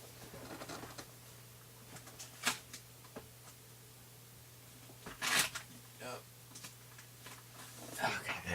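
Sheets of paper are grabbed and handled on a table, with faint scattered rustles and a few sharper crinkles heard quietly under a steady low hum.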